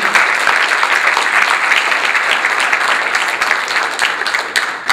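Attendees at a community forum on Latino education give a loud, sustained round of applause, many hands clapping densely and evenly for several seconds, close and full.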